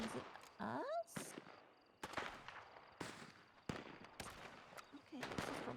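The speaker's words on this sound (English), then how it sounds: "I think because the fireworks are very quiet, they're giving us some noise to go with it." Fireworks popping in Red Dead Redemption roleplay: a series of sharp, crackling bangs spaced irregularly, fairly close, with a chirping sweep early on and some faint background voices.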